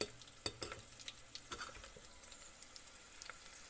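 Butter melting in a hot pan of oil for chicken, a faint soft sizzle broken by a few sharp clinks and scrapes of a utensil against the pan.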